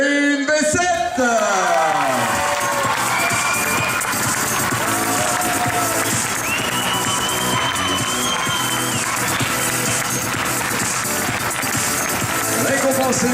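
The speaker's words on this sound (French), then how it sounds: "Vous allez applaudir s'il vous plaît Erin Bessette" Outdoor audience at a kids' cycling race applauding and cheering a young rider, a steady broad crowd wash with scattered claps running the whole stretch, mixed with amplified announcer talk and tonal sounds.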